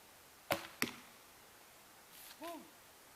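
Arrows are loosed from a traditional heavy-poundage bow, with two sharp snapping releases close together followed by a softer whooshing flight sound, heard outdoors with faint background noise.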